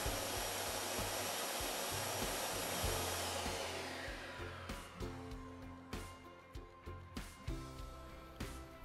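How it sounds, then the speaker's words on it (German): A shop vacuum hooked up to a Bosch GTS 10 XC table saw roars steadily, then its noise fades as it runs on after the saw is switched off, with scattered knocks and clicks following. "Wird die Säge nun eingeschaltet, startet auch der Staubsauger."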